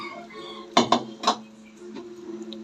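Dishes and cutlery clatter during washing, with a few sharp clinks in a quick cluster followed by lighter knocks, close by and fairly quiet, with no talk.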